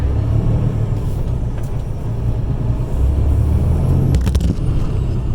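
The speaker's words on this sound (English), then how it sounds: "Let's go truck driving." A truck engine rumbles steadily while driving a remote Wyoming road near Ten Sleep, a loud low drone with road noise throughout and a brief rattling burst near the end.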